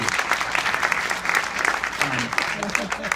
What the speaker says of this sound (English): if we could give a round of applause for the Academy, please